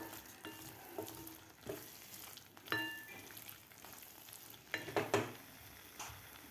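Ivy gourd (tondli) sautéing in spice masala in a pan: soft, steady frying crackle with a few brief louder sizzling bursts and stirring scrapes, close by with no talk.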